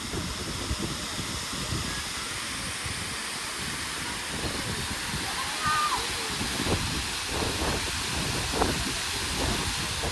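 Monsoon water rushing past at the Matheran hill station, a loud, steady roar that fills the whole stretch with only slight swells in strength.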